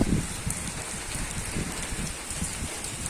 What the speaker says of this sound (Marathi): हे इकडे पाऊस, इकडे पाऊस